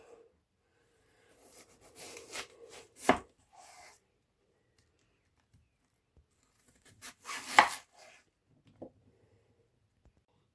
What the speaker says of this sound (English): we will just be chopping it into 4 pieces